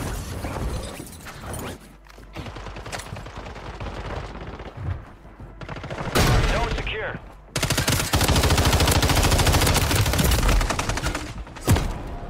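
Bursts of MTZ-556 rifle fire in Call of Duty Warzone on Rebirth Island, rapid automatic volleys that start and stop, densest and loudest in a sustained stretch near the end, with game effects and chatter mixed in.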